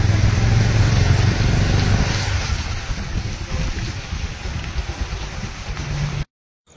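A vehicle moves through a waterlogged lane after rain, giving a steady close rumble with a washing, sloshing hiss that fades partway, then cuts off abruptly near the end.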